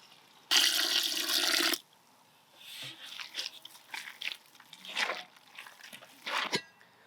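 Water is poured into mirchi bajji batter in a village-style outdoor kitchen as a loud, rushing pour lasting just over a second, followed by softer scattered stirring and crunchy mixing sounds.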